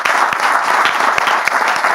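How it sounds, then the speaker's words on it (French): A studio audience claps together in dense, steady applause for a pastor on a French-language talk show, loud and close over the full two seconds. "on peut applaudir bien fort"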